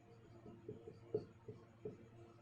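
Faint strokes of writing on a board during a physics lesson on heat and temperature: short, uneven scrapes and taps in an irregular rhythm, close by in a quiet room.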